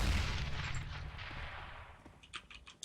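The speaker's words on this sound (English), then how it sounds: "Let's see if he actually gets the Mag 7 kill with it." Mag 7 shotgun fire in the video game CS:GO during a competitive match on Inferno: a loud blast that decays over a second or two, followed by several short, faint sharp clicks.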